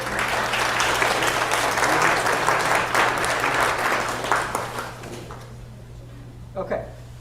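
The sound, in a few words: lecture audience applause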